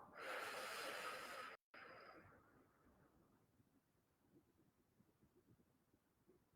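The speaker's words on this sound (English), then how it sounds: "and breathe out." A single long exhale of breath, close and fairly loud for about a second and a half, then a shorter softer trailing breath fading out into near silence.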